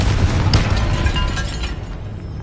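Confringo spell blast in the video game Hogwarts Legacy, a dense, loud burst of booming energy with crackling debris that stays full and roiling for a couple of seconds before thinning slightly.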